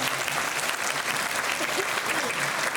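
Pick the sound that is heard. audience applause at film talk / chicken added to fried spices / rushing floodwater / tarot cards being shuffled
audience applause at film talk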